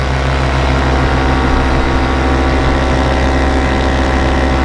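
A Dudek paramotor engine drones steadily in flight on a good flying day, a loud continuous buzzing hum with strong low harmonics that holds even throughout, alone without talk.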